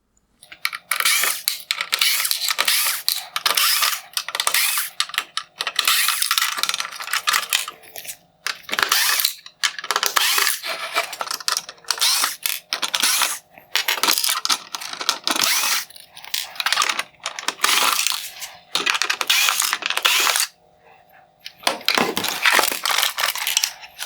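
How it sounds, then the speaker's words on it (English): A Torx driver backing out T20 screws from the brackets of a 2016-2019 Mercedes-Benz GLS550 LED headlight, heard as dense, close, repeated clicking and ratcheting bursts with brief pauses between screws, no talking. "Next, I'm going to start removing the T20 screws holding in the majority of these brackets."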